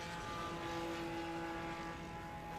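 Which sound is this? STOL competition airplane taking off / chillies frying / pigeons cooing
STOL competition airplane taking off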